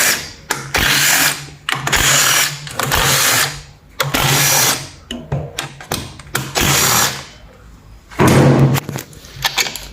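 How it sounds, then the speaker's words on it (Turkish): A power tool unscrews the 8 mm clutch cover bolts on a motorcycle in loud, choppy bursts of whirring, each burst separated by pauses and light clunks. "Öncelikle debriyaj kapağımızın 8'lik vidalarını alıyoruz."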